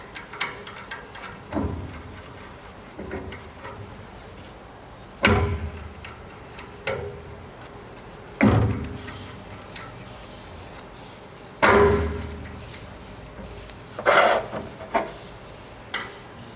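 Allen head bolts are fitted into the flange and wheel clamp of an ERKCO motorcycle wheel balancer, giving a series of sharp metallic clicks and scrapes spaced a second or two apart, close and fairly quiet.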